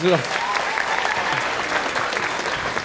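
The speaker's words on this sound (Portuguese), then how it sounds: "Salva de palmas!" Lively audience applause at a stage hypnosis comedy show, brisk clapping from a crowd sustained across the stretch, with a brief voice and shouts at the very start.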